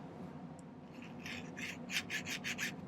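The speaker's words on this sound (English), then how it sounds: "I'm going to file a little groove where I made that mark" Metal file rasping a small groove into silver stock for art deco earrings, a few soft strokes building into a steady run of close, evenly spaced scrapes.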